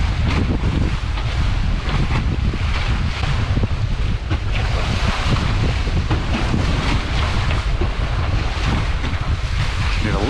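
A sailboat under way from Santa Rosalia toward Concepcion Bay, with a loud, continuous roar of wind and the rushing wash of waves against the hull, steady and close throughout.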